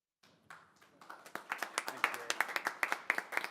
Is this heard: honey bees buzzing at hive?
no